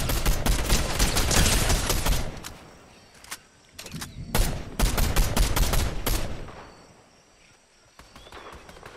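Gunfire in the video game Fortnite: dense bursts of rapid shots crack close and loud for a couple of seconds, pause, then return in further volleys before tapering into quieter scattered shots.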